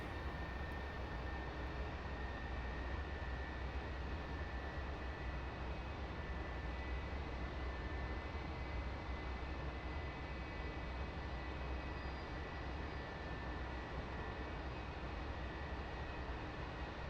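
F-4E jet taxiing in a DCS flight simulator, a steady broadband engine roar with a faint high whine, constant and unbroken, with no talking.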